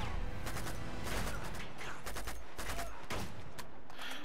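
An FAL rifle in Uncharted: Among Thieves fires in rapid bursts, a dense string of close shots repeating throughout with a faint voice underneath.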